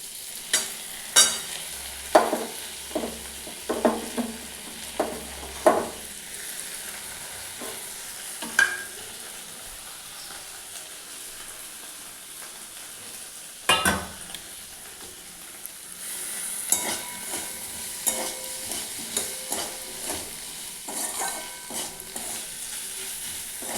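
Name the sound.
frying cumin, coriander, dry chili paste while stirring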